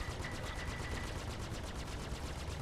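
Rapid, steady automatic gunfire pummels a ship in the space game Star Citizen, a dense rattling burst of evenly spaced shots lasting a couple of seconds at moderate volume with no voices.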